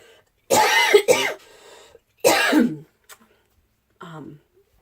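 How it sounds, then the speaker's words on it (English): A few loud coughs or throat clears in quick succession, close by, followed by a softer cough and a short pause. "Excuse me, I have to cough."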